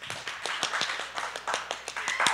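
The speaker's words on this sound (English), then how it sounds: "everyone give a round of applause to the soldier." A church audience claps, a small group producing distinct, fairly regular individual claps in a loose rhythm, close and moderately loud, with no talking over it.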